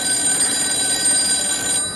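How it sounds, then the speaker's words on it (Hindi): A telephone rings steadily and fairly loudly with a bright, sustained electronic tone, cutting off just before the end; no voices. "लगता है वही फोन है।"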